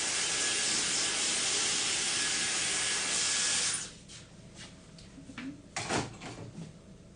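Gold Lust Dry Heat Protection Spray misted onto straight, natural textured hair in one long, steady hiss lasting a few seconds, then stopping; faint handling clicks and rustles follow.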